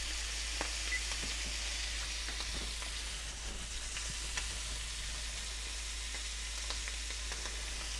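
Shrimp fry in a pan with a steady, crackling sizzle and scattered pops, close and fairly quiet, with faint stirring noises.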